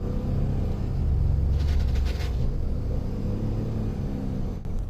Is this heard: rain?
no